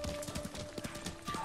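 Horse hooves clip-clop at a steady trot in the video game Ghost of Tsushima, the even rhythmic beats close and clear over a faint game background.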